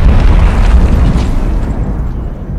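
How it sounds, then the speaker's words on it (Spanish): Artillery ranging shots exploding in the Combat Mission war game: a loud, continuous low rumbling blast that fills the whole stretch and slowly fades, with no talk over it. "Tiros de aproximación."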